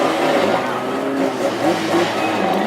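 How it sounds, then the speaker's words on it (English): Race cars roar close by behind a pace car at a Hednesford classic hot rod race, a dense continuous engine drone with no clear breaks. "There's the pace car in the front of the C-grade drivers."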